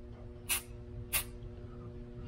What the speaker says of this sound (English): I'm going to just spray a little bit of primer just to prevent.